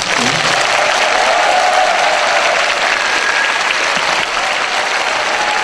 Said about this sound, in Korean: 그리고 그 아들을 위해서 큰 박수 부탁드립니다.